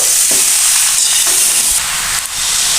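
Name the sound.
stirring cinnamon and cracked cardamom in a cooking pan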